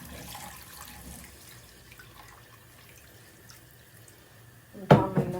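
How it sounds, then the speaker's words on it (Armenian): Water pours into a pot of seasoned fish being cooked with tarragon, starting abruptly near the end after a quiet stretch and splashing fairly loud and close. "ընդամենը կավելացնեմ ջուր"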